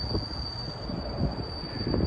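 A BNSF Z freight train led by five locomotives rolls eastbound on main track 1 of the Cajon Subdivision in California, near the Lower Sworthout crossing, a steady low rumble of wheels and cars passing at moderate distance.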